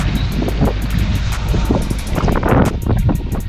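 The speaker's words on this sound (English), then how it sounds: "Wind is blowing." Wind blows steadily during an early-autumn snowfall outdoors, a loud, continuous gusty rumble buffeting the microphone for the whole stretch, with no voices.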